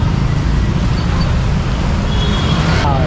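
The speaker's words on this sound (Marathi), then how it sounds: "हे बघा किती ट्रॅफिक आहे त्यात खड्डे सगळे" Busy road traffic on a potholed street by the Khed bus stand in Konkan, Maharashtra, a loud, continuous rumble of cars and buses close by.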